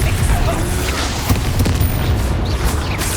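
A Confringo fire spell blast from the Hogwarts Legacy video game erupts as a dense, loud, booming roar that fills the whole moment with no gaps.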